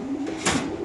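Racer pigeons in numbered cages at a pigeon farm give low, continuous cooing, a slightly louder swell of calls rising midway through.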